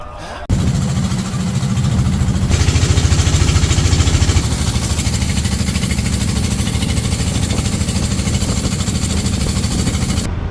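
A hired passenger boat's engine runs steadily throughout, a loud, continuous low chugging drone on a river trip to Sada Pathor in Sylhet, Bangladesh, starting abruptly and holding constant without speech.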